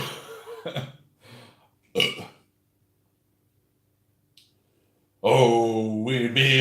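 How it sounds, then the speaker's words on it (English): A man burps once amid a quiet pause, a short low rumble among scattered speech fragments, before he starts singing loudly nearby. "I have to burp."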